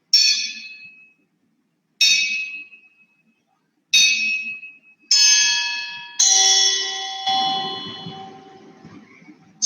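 Steel glasses are struck one after another, each giving a clear ringing ding that decays slowly. The first three strikes are evenly spaced and fade out, then later strikes come closer together and ring over one another at different pitches.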